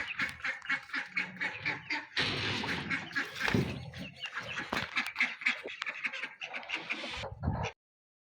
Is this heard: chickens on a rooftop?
yes